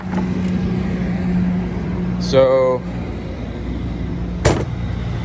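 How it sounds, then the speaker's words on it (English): A loud truck rumbles past a driveway with a steady low drone throughout, swelling slightly as it nears; a person speaks briefly over the noise. "There's this freaking loud truck coming."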